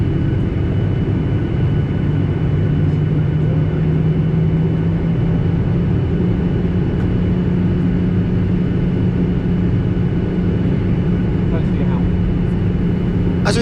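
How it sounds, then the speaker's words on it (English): Norwegian Boeing 737-800 taxiing at Stockholm Arlanda, heard from the cabin as a loud, steady engine drone and rumble with a low hum, continuous throughout, with someone speaking over it. "As we taxi out to runway 22 here in Stockholm"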